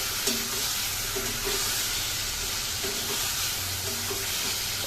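Pointed gourd sautéed with spice paste in a pan, with a constant hissing sizzle and soft repeated scraping strokes of stirring, close by and steady.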